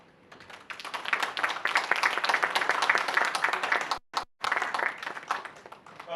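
Guests at a law firm event give a thin, scattered round of clapping, close and steady for several seconds, briefly cutting out before resuming.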